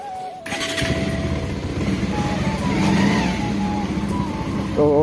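Bajaj Pulsar motorcycle engine running close by, a steady loud rumble that builds slightly mid-clip, with a voice speaking briefly near the end.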